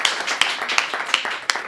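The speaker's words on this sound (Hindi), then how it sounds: "तालियों से दमदार जी का स्वागत करिए" An audience claps in welcome for a poet at a Hindi comedy poetry recital, a crowd of hands going at once with sharper bursts standing out every few tenths of a second.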